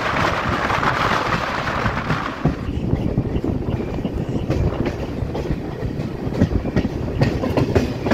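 A Bardhaman to Katwa local train rumbles steadily along single-line rails, close and loud, with a dense clattering roar that continues throughout.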